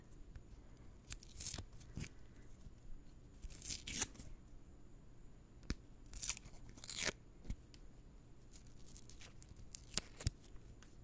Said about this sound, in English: I'm going to take all the paper off.